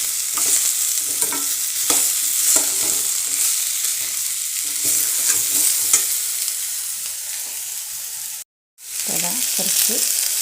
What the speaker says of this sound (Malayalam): കുറച്ച് ഉപ്പിട്ട് കൊടുത്ത് നല്ലോണം ഇളക്കിയിട്ട്